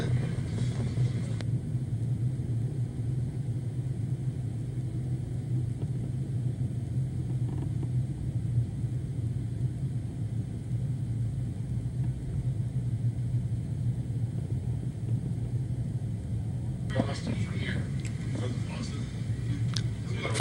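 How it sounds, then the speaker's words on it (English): Dirt track race cars at a Clash of Champions King of Dirt Series event drag racing down the front straightaway on a green flag restart, a steady low engine rumble holding throughout with a brighter burst of engine noise near the end. "we go back to green flag racing here once again as they drag race down the front straightaway"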